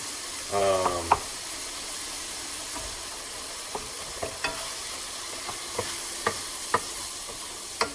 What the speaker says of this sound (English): this process that I'm going through right now is I'm actually just trying to break up the ground beef